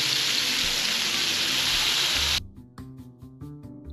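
Fish frying in a pan gives a loud, dense, steady sizzle that cuts off abruptly partway through, followed by quieter clinks and kitchen clatter.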